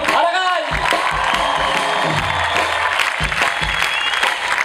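Concert audience at a show in Rubí bursting into loud applause and cheers as a drummer is introduced, dense clapping with whoops, and a voice speaking over the crowd.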